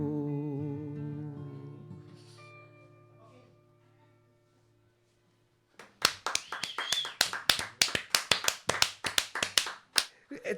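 Audience applause bursts in abruptly after a quiet fade, a loud, dense run of hand clapping with sharp individual claps that carries steadily to the end.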